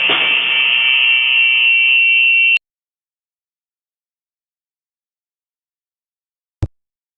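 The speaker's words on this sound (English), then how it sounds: "The loud ringing noise you can hear is the home's alarm system going off." A home alarm system blares a loud, steady electronic ringing for about two and a half seconds, then cuts off abruptly into silence, followed by a single sharp bang several seconds later.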